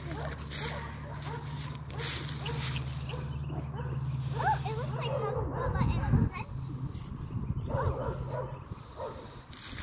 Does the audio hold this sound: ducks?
no